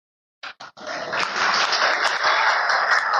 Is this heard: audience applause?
yes